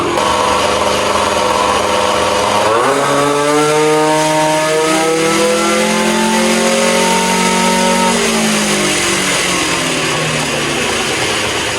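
A 2005 Yamaha Zuma scooter with a cheap big bore kit, running rich and slightly sputtery with a cold pipe, revs on a dyno. The loud, close engine climbs in pitch, holds high, then winds back down.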